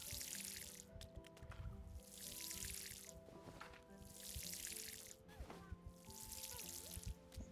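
A watering can waters crops in the dinosaur farming game Paleo Pines, with soft rushing pours in four repeated swells over a light game music bed, faint and even.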